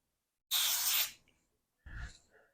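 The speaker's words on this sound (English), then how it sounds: "take you some cooking spray and just spray on your hands" Cooking spray sprayed onto hands before shaping no-bake star crunch cookies: a close, loud half-second aerosol hiss, a pause, then a second shorter and softer spray.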